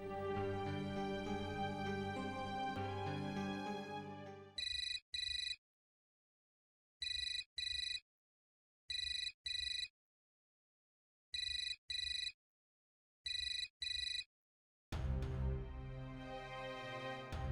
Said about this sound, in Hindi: पापा थाने में कोई फोन नहीं उठा रहा